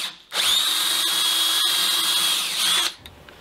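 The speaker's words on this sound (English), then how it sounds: "Here I'm drilling an 8mm truss rod access." A power drill bores an 8mm truss rod access hole through a rosewood guitar neck, a steady high-pitched whine running close and loud for nearly three seconds with a clean start and stop.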